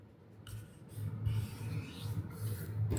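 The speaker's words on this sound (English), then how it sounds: "fold and burnish up the whole side" Paper being folded and burnished by hand while making a graduation cap, soft close rubbing and sliding strokes with faint crinkling, continuous and quiet, no speech.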